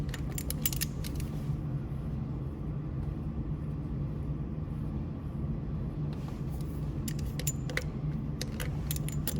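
Wheel nuts on a truck are snugged down during a DOT inspection, with metallic clinks and rattling taps over a steady low engine or shop rumble.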